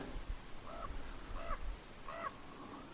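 A crow or raven flying high over taiga gives about three faint, distant caws at spaced intervals over a steady outdoor background hiss.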